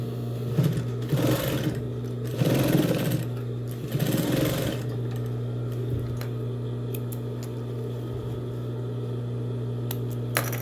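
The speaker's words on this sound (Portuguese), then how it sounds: "E vamos passar uma costura. De um pezinho de máquina, retrocesso." A sewing machine stitches a seam on a fabric box pencil case, running in three loud bursts with a short reverse backstitch, then falling quiet over a steady hum.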